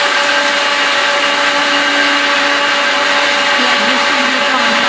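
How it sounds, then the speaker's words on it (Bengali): A mixer grinder runs at full power grinding charmagaj, poppy seeds and white sesame, a loud, steady, unbroken whir from start to finish. "এবার দেখো মিক্সি জারের মধ্যে আমি একটু চারমগজ, পোস্ত আর সাদা তিল নিয়েছি।"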